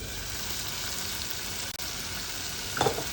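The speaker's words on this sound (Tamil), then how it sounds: "நல்லா மசாலா ரோஸ்ட் ஆகிடுச்சுமா" Masala roasts and sizzles in a pan for prawn gravy, giving a steady, dense, close frying hiss that breaks off for an instant midway, followed by a brief clink near the end.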